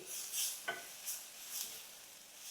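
Ridge gourd fibres roast in oil on a hot tawa with a soft, steady crackling sizzle, broken by a few light scraping stirs; faint, with no talking.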